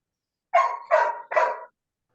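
A pet dog barks three times in quick succession, loud and close, each bark a short rough burst in a steady rhythm, set against an otherwise silent background during a video call.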